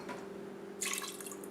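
A half cup of water poured into an Instant Pot for chicken adobo, a short bright splashing burst that starts partway through over a steady low kitchen hum, close and moderately loud.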